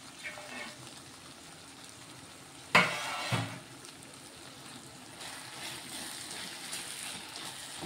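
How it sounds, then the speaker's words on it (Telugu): Coriander is stirred into a brinjal curry in a pan, giving a sudden loud sizzling, scraping burst near the middle, then a lighter second scrape, followed by a steady low simmer. "కొత్తిమీర వేసుకొని ఒకసారి కలిపేస్తున్నాను"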